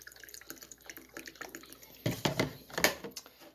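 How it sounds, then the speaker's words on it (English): Alcohol poured carefully into a small homemade portable stove gives quiet dripping and trickling, then several louder splashes and drips close by. "you're gonna actually take some alcohol with real careful. You're gonna fill it up."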